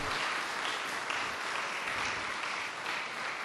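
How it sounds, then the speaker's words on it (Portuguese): Congress audience clapping for attendees from Roraima, a steady dense wash of applause that holds evenly from start to finish, moderately quiet and without speech. "Uma salva de palmas para Roraima aí com a gente"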